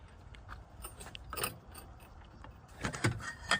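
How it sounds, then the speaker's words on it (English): Wrench turning a lug nut on a 2016 Mazda 6 during brake work, a run of close metallic ratcheting clicks and clanks that grows louder and busier toward the end. "If you're having trouble loosening the lug nut, you may be able to take the handle off of your floor jack, slide that over your wrench"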